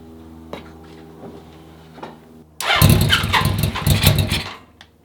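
An old school bobber motorcycle cranks a few times at low level, then its engine fires and runs loud and rough for about two seconds before cutting back down.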